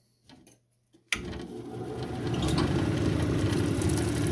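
A lapidary wheel fitted with 80-grit grinds the girdle of a dendritic opal cabochon, starting abruptly after a near-silent second. It settles into a steady, dense whirring grind that swells a little louder and holds continuously to the end.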